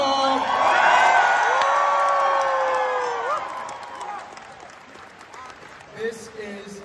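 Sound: crowd cheering and whooping for dancers

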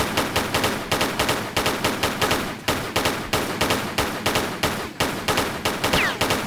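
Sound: gunfire shooting raptors, from video game Tomb Raider 3

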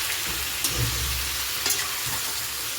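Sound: meat being stirred and fried in a pan for biryani

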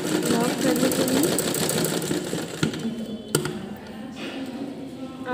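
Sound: sewing machine back-stitching to lock a smocking frock seam

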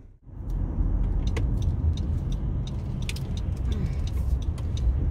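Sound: car pulling up at car wash

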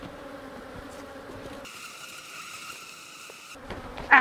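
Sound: honeybees buzzing around beekeeper at hive

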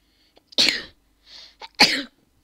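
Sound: sneeze into a microphone

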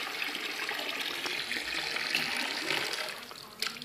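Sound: water flowing through a water-pulse mineral jig

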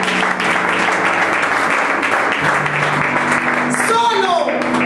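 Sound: congregation applauding

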